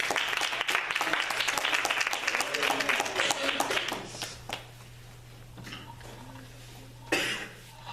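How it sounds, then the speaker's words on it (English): A church congregation at a Black history program applauds a woman, the clapping strong for about four seconds and then thinning to scattered claps, coughs and murmuring over a steady low hum. "Let's give her another hand clap"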